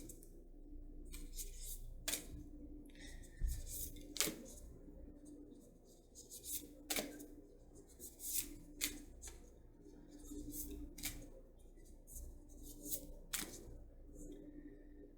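Oracle cards are shuffled by hand in quiet, crisp bursts of rustling and light slaps, repeating irregularly with short pauses between.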